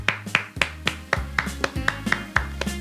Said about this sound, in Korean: 우리 하나님 감사의 박수 돌리겠습니다.